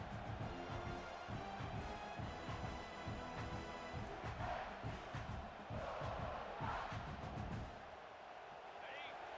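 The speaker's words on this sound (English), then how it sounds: "this big crowd doing everything possible to inspire this defense down here near the goal line" A large stadium crowd in a college football video game cheers and roars continuously near the goal line, loud and dense, fading somewhat at the end, with a commentator talking over it.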